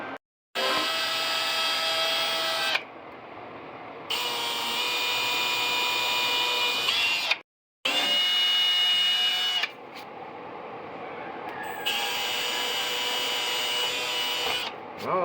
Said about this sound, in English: We're gonna drill them and set them in.